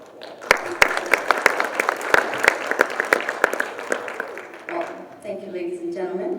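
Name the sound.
audience applause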